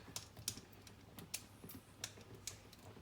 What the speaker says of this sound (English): Let's go ahead and grate this in.